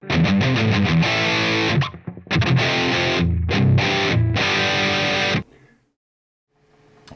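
Thick, saturated electric guitar tone from a POD HD500X tube distortion patch, loud chord phrases broken by two short gaps, then stopping sharply and leaving only a faint hiss of noise at the end.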